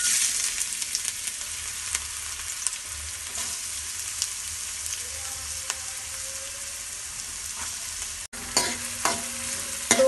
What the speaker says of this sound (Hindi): तो गाजरों को कर लेंगे हम हल्का सा इसको फ्राई, तकरीबन 1 मिनट